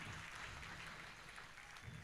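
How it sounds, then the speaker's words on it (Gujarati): Audience clapping at a Gujarati comedy show, a dense, steady wash of applause filling the whole short stretch with no break. "તમારી તાળી કલાકારને જીવાડી દે ભાઈ."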